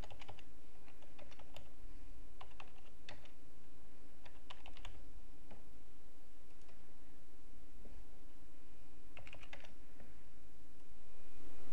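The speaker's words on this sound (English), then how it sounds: "We will enter our credit card information here." Steady typing on a computer keyboard while entering credit card details for a GMRS license application, clusters of close, crisp key clicks with short pauses, alone over a low background hum.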